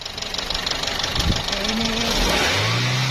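A used Toyota Corolla engine, warm, revs up at a car market, a rough mid-pitched roar that climbs and holds, with background chatter and knocking-like clatter close by.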